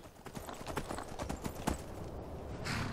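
Hooves of the horse Shadowmere clip-clopping at a steady riding pace in Skyrim, a soft rhythmic thudding that carries on throughout beneath a brief low voice.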